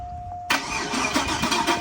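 A Cadillac engine cranks and catches abruptly after a faint whine, then settles into a loud, close, rough idle with uneven pulsing.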